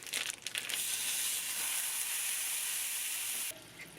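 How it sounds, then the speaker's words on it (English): A pound of ground beef hits a preheated skillet and sizzles loudly in a dense, continuous hiss for several seconds before cutting back sharply near the end. "I'm going to add a pound of ground beef."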